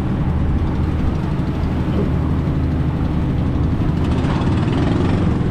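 A fishing vessel's engine runs at speed during a sea trial, a dense, constant low mechanical drone with broadband noise and no pauses.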